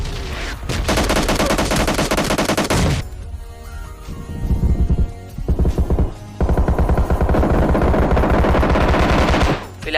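Rapid automatic M416 gunfire rattles in long, loud bursts during a PUBG firefight, with brief gaps and shorter volleys between the sustained strings of shots.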